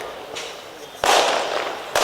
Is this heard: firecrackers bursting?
yes